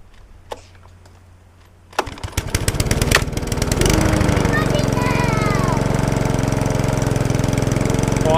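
A Briggs and Stratton lawnmower engine is choked and pulled, catching after a couple of coughs around the two-second mark, then settling into a loud, steady close-up running drone that continues to the end.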